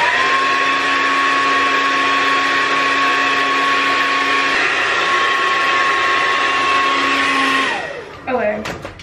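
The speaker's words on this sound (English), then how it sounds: "And I'm going with my blow dryer." A hair blow dryer runs steadily close by while drying a wig, a loud continuous whine with a constant pitch, then winds down and shuts off near the end with a few brief clicks.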